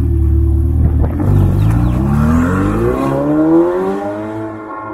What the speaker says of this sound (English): Rev it, bro. Rev it.